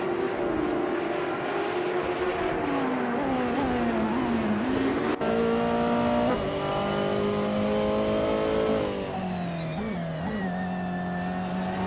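A 2016 Ligier JS P217 LMP2 prototype race car in a racing video game howls loud and close, its engine climbing and dropping through gear changes with other cars droning underneath.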